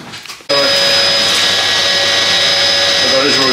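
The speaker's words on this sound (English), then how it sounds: "I'm just going to go and get a hoover whilst we do that" A vacuum cleaner switches on abruptly and runs with a loud, steady whining roar during chimney sweeping in a French home, close and continuous after a brief quiet start.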